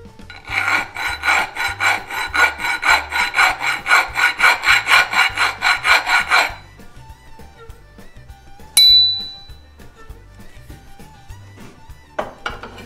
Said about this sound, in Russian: если твердость стали низкая, и напильник ее спокойно берет